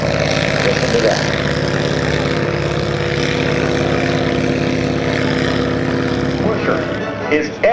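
A 1911 Curtiss Pusher replica aircraft flying at a naval air station air show, its propeller engine giving a loud, steady buzzing drone that holds throughout and fades slightly at the end.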